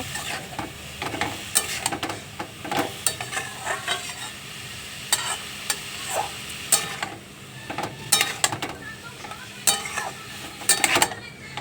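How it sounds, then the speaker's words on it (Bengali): Vegetables with salt and turmeric stirred in a frying pan, a steady sizzle under repeated scraping and clinking strokes of a spatula against the pan, close and without talk. "এবার ভালো করে এটাকে নাড়িয়ে নেব।"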